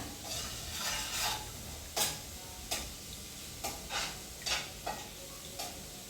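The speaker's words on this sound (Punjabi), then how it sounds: "2 ਮਿੰਟ ਇਹਨੂੰ ਆਪਾਂ ਲਸਣ ਨੂੰ ਪੱਲੇ ਨੂੰ ਭੁੰਨਦੇ ਆ" Garlic roasts in a pan with a soft background sizzle, punctuated by a series of sharp scraping stirs and spoon clicks at irregular intervals.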